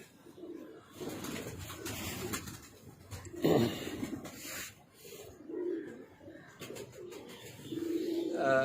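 Soft, low coos from teddy pigeons recur in short phrases against a busy background murmur, fairly close and moderately loud.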